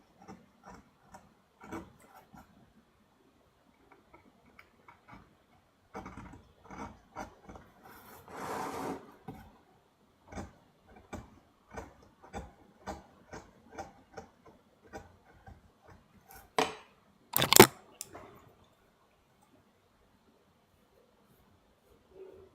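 A knife carving wood by hand: quiet, irregular scraping and clicking strokes, some short and some longer, spaced out over a near-silent background, with one sharper louder cut near the end.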